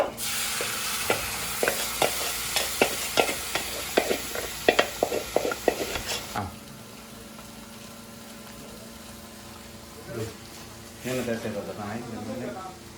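Pre-cooked squid being stir-fried in a hot pan for a squid thoran, with a string of sharp scraping stir strokes over a steady sizzle. Things then quieten to a low hiss, and a voice is heard briefly near the end.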